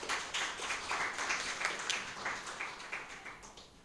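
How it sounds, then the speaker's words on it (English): Quiet audience applause at a gathering for Dominica's Under-16 netball team, a soft patter of scattered hand claps swelling and fading gently over a few seconds. "I think we all deserve a round of applause."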